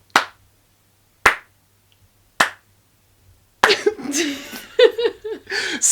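Three slow, evenly spaced hand claps ring out sharply in a quiet room, about a second apart, followed by a person talking and laughing.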